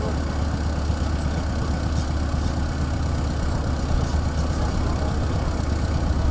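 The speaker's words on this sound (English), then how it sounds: "it is a modern piece of machinery powered by an engine, not a water turbine" The engine of a Wood-Mizer portable sawmill runs at an agricultural show in Upper Swaledale, giving a loud, steady, low idling drone that holds unchanged throughout without pauses.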